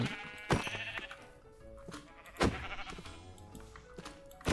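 Sheep in the Minecraft video game bleat three times in short, wavering cries spaced about two seconds apart, each loud and close, with quieter game sounds between them and no talking.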